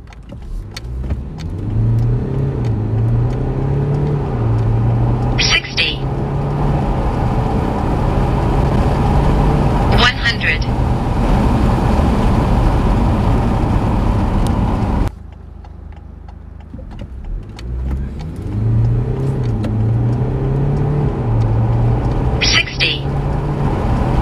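A stock BMW X3 G01 with the 2.0 diesel engine accelerates hard from a standstill, the engine note rising through the gears with clear shift breaks, then repeats the run after a brief drop in level, loud and close.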